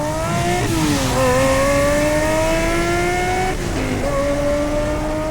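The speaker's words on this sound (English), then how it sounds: "This year I bought a Lamborghini Murcielago SV LP670." A Lamborghini Murcielago SV LP670 engine revs loudly and up close, its steady harmonic roar climbing, dipping briefly and rising again over about five seconds, with no talking.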